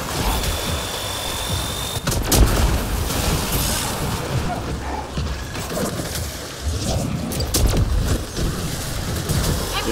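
Gunfire and heavy cannon blasts in an Apex Legends match: dense, continuous crackling shots and booming impacts fill the whole stretch, loud and close, with a player's voice mixed in.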